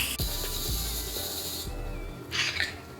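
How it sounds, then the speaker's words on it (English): Two quick bursts of makeup setting spray hiss close by, a long one then a short one after a brief pause. "let's go ahead and do some setting spray"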